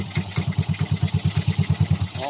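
A Yamaha Mio i 125 scooter engine running after being started, a close, steady single-cylinder putter with evenly spaced pulses at a quick idle, fading slightly at the end, no talk over it.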